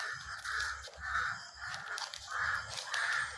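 A crow caws repeatedly outdoors, a steady series of harsh calls at even intervals over a constant low background rumble.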